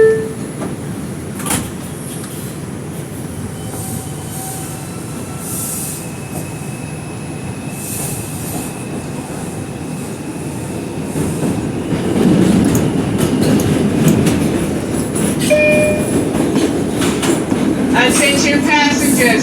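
An R142 express subway train on the 4 line runs between stations with a steady low rumble, rattling clickety-clack and squealing wheels that grow louder toward the end, with brief chimes and announcements over it.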